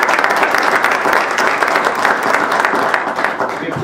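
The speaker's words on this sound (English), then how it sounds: "let's give your instructor a round of applause" Audience at a West Valley City Council meeting applauds an English instructor, steady dense clapping filling the room throughout, with faint voices mixed in.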